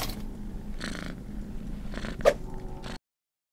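A cat in the game Ding Dong Dead purring softly in low rumbling bursts, with a short sharp sound partway through before it cuts off to silence.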